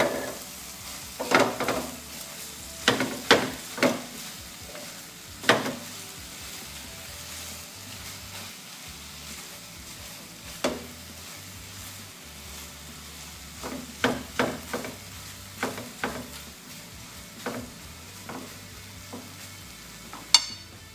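Spring onions go into a hot pan with spicy corned beef and are stir-fried, heard as a low sizzle punctuated by irregular clatters and scrapes of a utensil against the pan.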